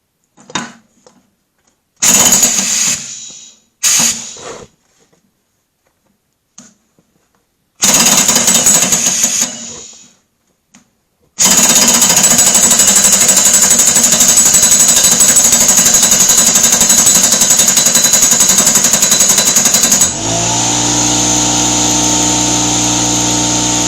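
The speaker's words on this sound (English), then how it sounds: "it cycles off like that, or on like that, the air compressor" An air compressor on a deck-building job cycles on: after scattered bangs and pauses it kicks in with a loud, steady mechanical drone that holds for several seconds, then drops to a lower, smoother running tone, close and alone.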